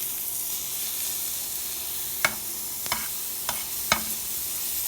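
Butter sizzles under a pancake frying in a pan, a steady close hiss with four sharp spatula taps in the latter half and no talking.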